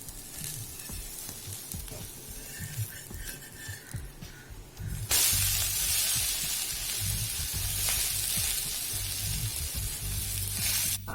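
Vegetable uthappam frying on a hot pan after being flipped, a soft crackle that suddenly bursts into a loud, steady sizzle partway through, close and with no talk.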